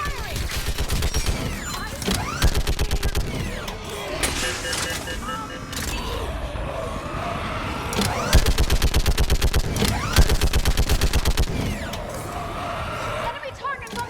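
Rapid bursts of automatic gunfire in Mass Effect 3, loud and close, with repeated fusillades and single shots layered over shouted in-game voices and combat noise.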